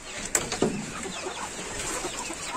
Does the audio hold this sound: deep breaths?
no